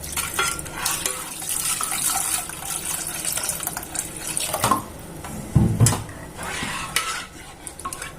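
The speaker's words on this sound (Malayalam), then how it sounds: "ആവശ്യത്തിന് വെള്ളം ചേർത്ത് മിക്സ് ചെയ്യണം." Rice flour batter of ground raw rice and water stirred in a bowl, a steady close scraping and sloshing with clinks of the spoon against the vessel, one louder knock midway, no voices.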